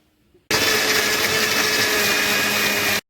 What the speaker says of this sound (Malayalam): ഒരു മിക്സിയുടെ ബൗളിലേക്ക് നന്നായി പഴുത്ത മാങ്ങാ കഷ്ണങ്ങൾ ഇട്ട് കൊടുത്തൊന്ന് അടിച്ചെടുത്തിട്ട് വരാം